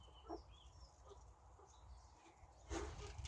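Faint clucking from hens and a cockerel outdoors at a cabin, soft and intermittent over a low background rumble.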